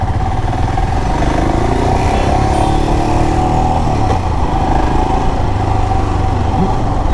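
Royal Enfield Himalayan motorcycle engine running steadily while riding, a loud continuous low thrum with rough mechanical texture and wind, holding an even pace throughout with no voices.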